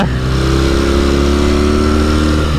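A Norton 650SS motorcycle engine runs steadily at idle, a loud, close, continuous throbbing with a strong low rumble and no voices over it.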